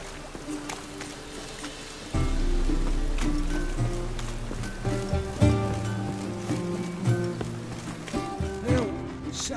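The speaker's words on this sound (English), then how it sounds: "Rain, I like rain." Rain falls steadily across the world of The Witcher III: Wild Hunt, a constant hiss of noise mixed under layered game sounds and music that thicken and swell partway through.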